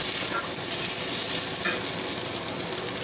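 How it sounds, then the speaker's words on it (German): Meat browning in a pan with chili and pepper, a loud, continuous close sizzle with faint stirring scrapes and no talking. "das Fleisch ein wenig anresten"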